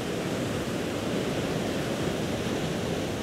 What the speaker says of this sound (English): you can still hear the sound of the ocean lapping nearby